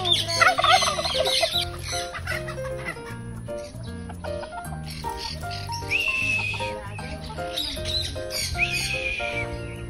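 A crowd of farm fowl, chickens and turkeys, gathered close by, with busy overlapping clucks and gobbling calls in irregular bursts, fairly loud and near.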